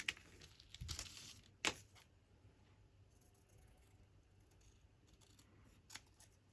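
Scissors cut thin paper strips in a few quiet, close snips and crinkles, separated by soft pauses in an otherwise hushed room.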